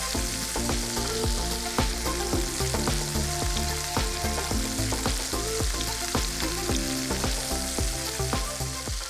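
Veal and scamorza rolls frying in butter in a pan, a constant sizzle dotted with rapid crackling pops and occasional stirring clatter, fairly close and unbroken, with no talking.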